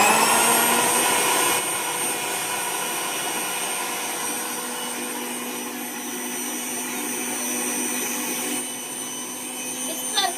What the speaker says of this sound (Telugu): ఇవైతే మిక్సీ పట్టేసుకుందాం బాబా.